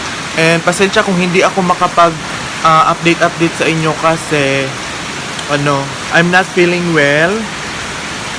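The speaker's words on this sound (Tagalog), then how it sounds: "umuulan ngayon" Heavy rain falling on the last day of 2020, a steady hiss running under continuous close talking throughout.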